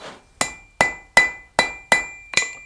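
A blacksmith hammers forged chain link scarves together before welding: six sharp, ringing metallic strikes at an even, unhurried rhythm, close and clear, with a bright tone hanging after each blow.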